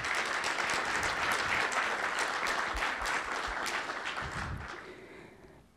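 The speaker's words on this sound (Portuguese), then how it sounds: "Uma salva de palmas a todas as mulheres." Applause from an audience honouring women on International Women's Day, a dense steady clapping that holds strong and then tapers off toward the end.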